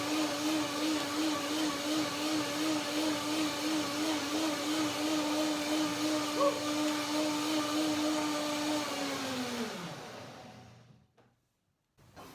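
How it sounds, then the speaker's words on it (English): Countertop blender whirring through fruit salad of kiwi, pear and grapes in lemony cashew cream, a steady high motor whine that holds then winds down and stops near the end. "One more blender dance."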